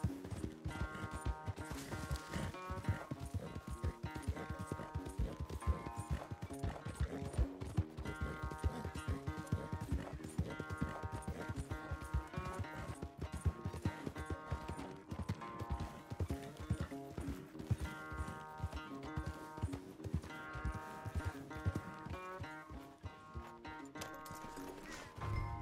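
Horse hooves gallop in Red Dead Redemption 2, a fast continuous clip-clop rhythm under game music that runs the whole way through.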